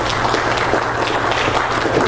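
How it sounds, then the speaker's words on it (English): A congregation claps together in praise during a church service, producing a dense, steady wash of hand claps that holds at an even level throughout without letting up. "everybody get a little bit of hand clap of praise"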